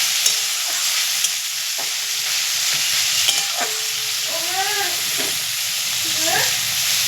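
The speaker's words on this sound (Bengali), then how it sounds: "আঁচ কমিয়ে ভাজা ভাজা হবে।" Food with a pinch of turmeric frying gently in a pan over low heat, a steady soft sizzle running throughout with faint background sounds and a few brief tones.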